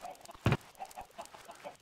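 Minecraft chickens clucking in a survival game, a run of short soft clucks spaced through the moment with one louder burst near the start, faint and close, with no talk over them.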